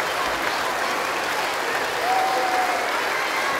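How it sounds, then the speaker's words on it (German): Steady, sustained audience applause after a fiddle festival concert, a dense wash of many hands clapping evenly throughout, heard from within the hall with no one speaking. "herzlichen Dank für den unerschöpflichen Applaus"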